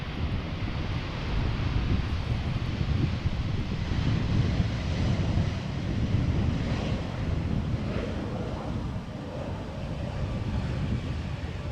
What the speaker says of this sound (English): I do get the feeling that the wind is picking up a little bit